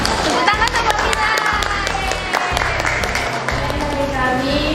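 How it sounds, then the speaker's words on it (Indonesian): Audience clapping at the close of a school Quran recitation program, steady and fairly loud across the whole stretch with children's voices and shouts mixed in. "Tepuk tangan untuk kita."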